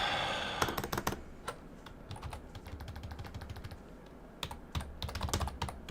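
Rapid keystrokes on a Japanese computer keyboard, close and crisp, come in bursts of clicks with a brief pause before a final flurry; no one speaks.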